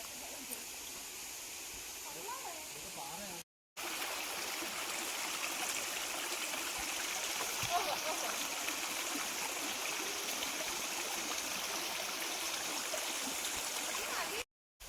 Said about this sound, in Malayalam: കണ്ടോ അങ്ങാണ് വെള്ളച്ചാട്ടം.